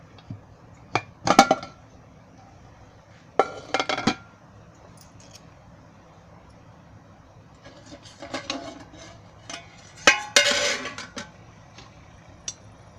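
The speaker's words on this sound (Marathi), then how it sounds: "आता बघूया आपण कुकर खोलून." A pressure cooker is opened after cooking semolina cake in bowls: scattered metallic clanks and clinks of the lid and steel bowls in short bursts, separated by quiet pauses, close by and fairly loud.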